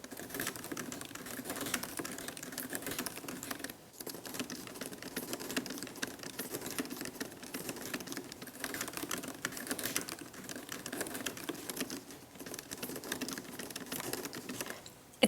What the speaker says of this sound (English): let's do a sound test of the two keyboards. This is my old Mac, this is the new Mac.